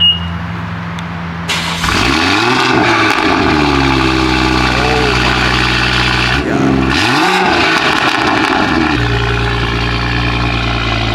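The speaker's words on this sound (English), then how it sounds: "Bro, this cold start was crazy." A BMW B58 engine tuned past 800 wheel horsepower cold-starts with a sharp crank and loud bark, then settles into a high, droning idle with a couple of brief revs, very close and loud.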